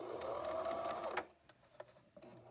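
A sewing machine runs a short burst of back stitching for about a second, then stops, leaving faint clicks and small handling noises close by.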